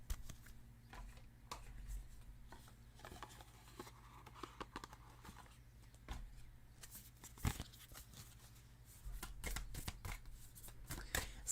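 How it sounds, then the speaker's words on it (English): Tarot cards are shuffled by hand in quiet bursts of riffling and flicking, with faint taps and card slaps scattered across the stretch. There is no talking over them. "So let's get some more cards and clarify these."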